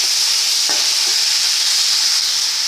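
Loud, continuous sizzling from a pan of vegetable curry as coriander leaves are stirred in, a dense hiss with a couple of faint spoon knocks beneath it, close up.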